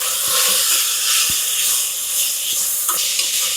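Chicken pieces frying in a pan for pulao, a steady close hiss and sizzle with a few faint clinks, alone without talk.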